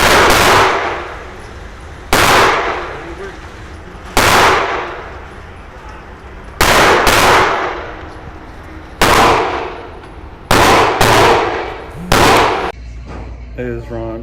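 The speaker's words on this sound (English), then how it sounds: "that is the Denali M4. It's a 12 gauge. That's fun to shoot." A Denali M4 12 gauge shotgun fires sharp, loud booming shots, seven or eight of them spaced a couple of seconds apart, some in quick pairs, each with a short echoing decay outdoors.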